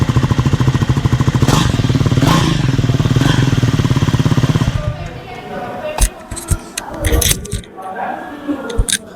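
A 2025 Triumph Scrambler 400 XC motorcycle engine idles with a steady, loud rumble, then is revved in several sharp, short bursts that rise and fall.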